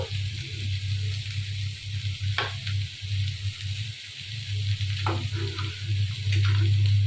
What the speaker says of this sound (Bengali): এখন আমি ডাটাগুলো বেজে নিই